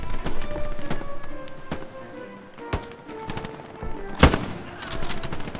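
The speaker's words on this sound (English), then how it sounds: "that's an enemy MG, like, just south of my position." Enemy machine gun in the video game Hell Let Loose fires sharp bursts of shots across a busy beach battle, with a loud close crack near the end among other distant gunfire.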